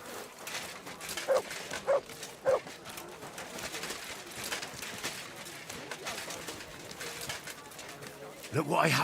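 In a video game, a dog gives a few short barks at a moderate level over a steady background, followed by a louder burst near the end, with talk in the background.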